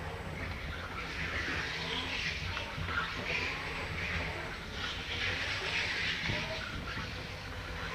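A Still forklift with a triplex mast drives forward through a slalom, giving a continuous motor whine and rolling hum at moderate distance that swells and eases slightly as it turns, with no talk.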